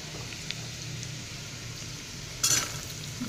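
Vegetables for veg soya pulao sautéing in a pan with ginger, garlic and chilli, a soft steady sizzle with a brief louder clatter of stirring near the end.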